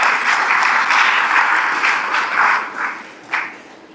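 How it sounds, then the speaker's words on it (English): An audience applauds as speakers are welcomed onto the stage at an annual tech talk. The clapping is loud and sustained, then thins out and fades, with one last sharp clap near the end and no voices over it. "Let's clap for them, please."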